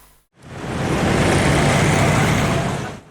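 Traffic at a red-light intersection in Makassar on a Monday midday: after a brief hush, cars, buses and trucks surge past with a loud roadway roar that swells, holds and drops off abruptly.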